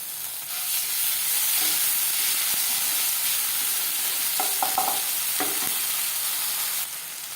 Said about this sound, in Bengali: আর দিয়ে দেব হাফ চামচ আদা বাটা কাঁচা লঙ্কা বাটা